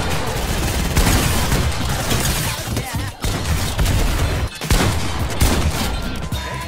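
Rapid, loud Fortnite gunfire crackles almost without pause in dense volleys, with a few brief gaps between bursts and cheering voices faint in the mix.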